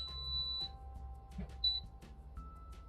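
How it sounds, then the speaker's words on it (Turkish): Quiet electronic beeps from an air fryer signalling it has finished, sounding at intervals, thin high tones over a low steady hum. "kapandı ve bize bittiğine dair sesli olarak bildirim veriyor"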